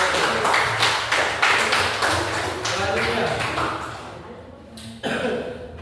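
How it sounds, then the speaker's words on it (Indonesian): Applause in a classroom for a presenting group during a teacher certification session, a burst of clapping from several people with a cough and voices mixed in, fading after a few seconds, then a short final clap. "beri aplaus untuk kelompok"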